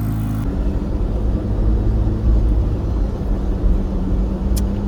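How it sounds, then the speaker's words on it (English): A 2023 Chevrolet Corvette C8 Z06's deep, loud stock exhaust rumble, steady and throaty throughout with no talking. "I can't believe how good it sounds and how loud it is with just the stock exhaust."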